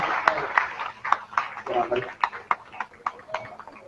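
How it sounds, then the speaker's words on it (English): A small group applauds after a meat slicing competition in Australia, sparse individual claps popping out sharply in an uneven rhythm while a voice talks over them. "Big round of applause"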